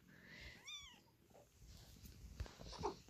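Nearly three-week-old kittens mewing while they feed, a couple of thin, rising cries close by, then quieter shuffling and small clicks with a faint squeak near the end.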